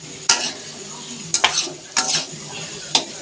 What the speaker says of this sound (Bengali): আমিও একটু নাড়িয়ে চাড়িয়ে দিচ্ছি আলু ভাজাটাকে